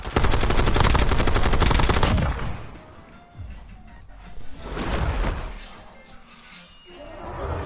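Rapid automatic gunfire rattles in a Call of Duty battle royale match, a dense loud burst followed by two shorter volleys with thuds and gaps between.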